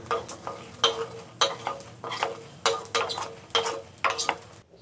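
Coriander seeds are dry-roasted and stirred in a kadai, about eight rhythmic scraping strokes with light rattling and crackle, close up and with no talk.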